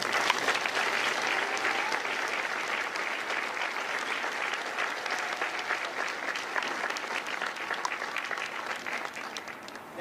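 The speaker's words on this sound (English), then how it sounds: "please, join me in a round of applause for the officers, the drill instructors, and the families of Company M." A large crowd applauds the officers, drill instructors and families at a Marine Corps recruit graduation ceremony for Company M in San Diego, with dense, sustained clapping that holds steady across roughly ten seconds and no voices over it.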